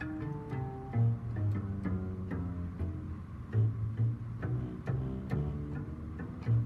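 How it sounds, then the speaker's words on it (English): An acoustic bass voice on a Williams Legato 3 digital piano plays a walking line of plucked low notes in a steady rhythm, each with a soft attack and a short decay. It is clear and alone, with no talking. "And here is the acoustic bass,"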